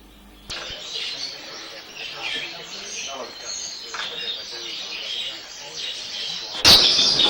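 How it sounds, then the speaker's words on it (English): Fife canaries at a bird show chirp in brief, high tweets over a quiet room, followed near the end by a sudden loud burst of wing flapping. "These are Fife canaries."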